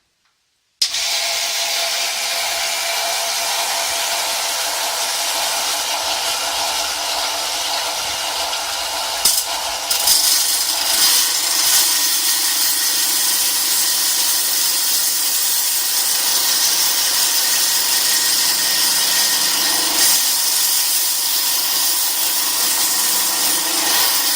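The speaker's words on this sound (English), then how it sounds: "I'm going to try and slice that on the saw" A lapidary saw cuts through a piece of boulder opal, giving off a steady, loud, hissing whine that continues without a break, with a small jolt partway through and no talking.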